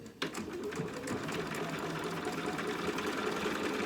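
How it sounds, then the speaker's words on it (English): A sewing machine runs continuously at close range, basting fabric pieces for a dog outfit with a fast, even mechanical whirr and rattle after a brief start. "And we'll get both of these sewed down."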